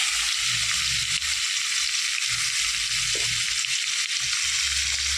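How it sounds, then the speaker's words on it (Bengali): Fish frying in oil in a pan gives a dense, continuous sizzle and crackle, loud and close, steady from start to finish with no voices. "মাছগুলো মামনি হালকা লাল করে ভেজে নিই"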